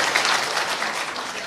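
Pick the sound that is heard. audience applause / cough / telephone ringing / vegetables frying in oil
audience applause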